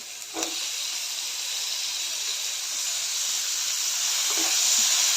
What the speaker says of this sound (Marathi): आता ह्यामध्ये मी कढीपत्त्याची पानं आणि टोमॅटो घालते